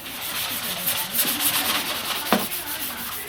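Steady rubbing strokes of 220 grit sandpaper smoothing a ridge on the surface of an RC model airplane, a close, continuous scratchy hiss with slight rhythmic swells.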